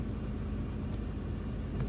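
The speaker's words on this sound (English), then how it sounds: "there's a car behind" A car passing nearby outdoors on a street with stop signs, a steady low engine and road rumble that holds at a moderate, fairly close level throughout.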